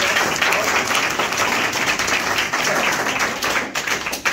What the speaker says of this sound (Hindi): मैम जोरदार ताली एक बार मैम के लिए